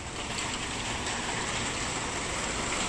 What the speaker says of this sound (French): si vous entendez le bruit, il pleut vraiment beaucoup à cette heure-ci